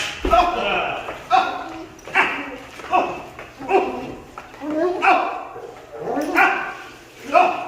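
A protection dog in bite training gives repeated loud, close barks in bursts about once a second, with a person talking over them.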